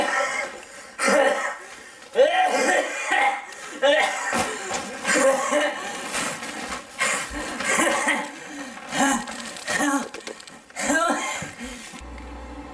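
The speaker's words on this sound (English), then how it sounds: "if someone's having coughing problems in the workplace" Repeated coughing and throat clearing, fairly close, broken up among short bursts of voices and chuckling.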